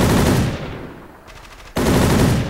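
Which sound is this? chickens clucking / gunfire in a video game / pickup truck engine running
gunfire in a video game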